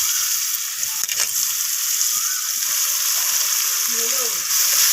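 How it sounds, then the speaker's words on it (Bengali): Sliced onions and a bay leaf fry in hot oil left from frying squash, a steady close sizzle with occasional stirring taps and a faint voice briefly in the background. "তো পেঁয়াজটাকে আমি ভেজে নেব লালচে রং করে"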